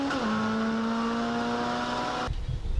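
A Mark 1 Volkswagen Golf race car drones steadily at high revs toward the finish line, a loud sustained engine whine holding pitch for about two seconds before cutting off abruptly.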